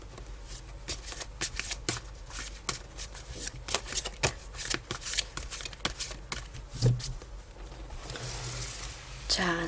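Tarot cards shuffled by hand in a steady run of crisp riffles and soft flicks, close and fairly loud, with a brief low thump near the end and no talk over it.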